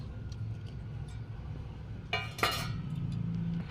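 Raw rui fish being mixed by hand with spices in a wok, giving a few soft wet squelches and a couple of bright metallic clinks against the pan over a low steady room hum; no voices.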